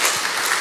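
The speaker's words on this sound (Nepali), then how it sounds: "ताली बजाएर प्रभुलाई धन्यवाद दिउँ न" A church congregation claps together in a brief, dense burst of applause, steady and fairly loud with no pause.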